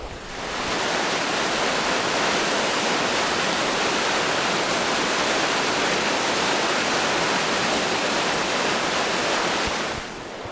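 Powerful rushing water pours beneath a bridge in a steady, dense roar that fills the whole stretch, loud and close with no voices over it.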